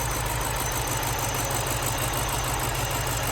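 A 2005 BMW X5 4.4L V8 with 156k miles and fault codes pointing to coils and plugs idles steadily, a continuous close mechanical hum with a faint rhythmic ticking throughout and no talking.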